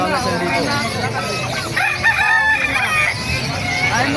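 Roosters crowing in a busy market yard in Bocaue, several calls overlapping with clucking chickens and people talking nearby.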